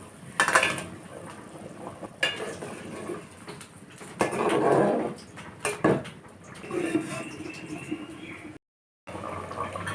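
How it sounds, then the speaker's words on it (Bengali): Fried katla fish goes into a pot of simmering fish curry, bringing clattering utensil and pot knocks, a wet pour and bubbling liquid up close. "এবার ভেজে রাখা মাছটাকে ঢেলে দেব।"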